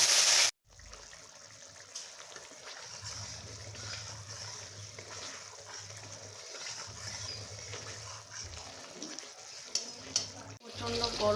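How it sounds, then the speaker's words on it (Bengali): Spices frying in boiled lentil dal in a pan, a soft continuous sizzle heard up close with intermittent low hum and a brief clatter near the end, fairly quiet overall. "ডালে ভেজে নেব মশলাটা।"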